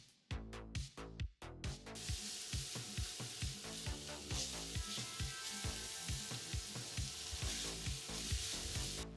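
Vegetables sweating and sizzling in a pan that still holds the browned fond left from kofta meatballs, a loud steady fry with repeated scraping stir strokes near the start, no voices.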